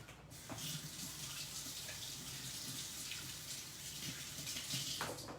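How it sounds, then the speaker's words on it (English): Tap water runs steadily into a kitchen sink as hands are rinsed during preparation of a panzanella bread salad, a continuous close hiss with slight splashing changes, no talking. "I'm gonna rinse my hands"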